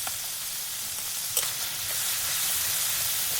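Turmeric, salt and red chili powder fry in oil for a koi fish curry cooked outdoors on a wood-fired stove by the Jamuna riverbank, giving a steady, close sizzle that runs throughout with one brief crackle.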